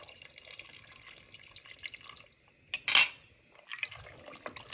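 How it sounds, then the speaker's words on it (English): Water poured from a tap or jug over dry pasta in a pan, a hissing trickle, a brief louder splash, then more flowing water, close up with no talk. "I'm going to just cover the pasta with water."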